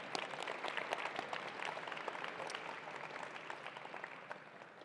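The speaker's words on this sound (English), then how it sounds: "let's give it up for a round of applause for everyone who's here tonight" Audience applause at an evening awards program, a dense, even patter of many hands clapping that holds steady and slowly thins toward the end, somewhat distant and fairly quiet.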